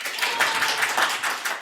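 A live podcast audience claps steadily and broadly for under two seconds, a dense, even patter of many hands with no talk over it.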